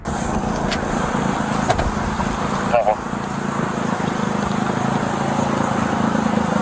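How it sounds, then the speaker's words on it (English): Steady, loud engine and exhaust drone from a small farm car on a West Virginia road, a continuous rumbling hum that runs throughout with a brief disturbance midway, and a voice talking over it. "You hear the exhaust?"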